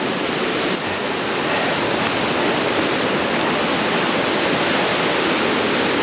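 A mountain stream in the Ariège rushes over rocks, a dense, continuous roar of water that stays close and loud throughout, with no voices.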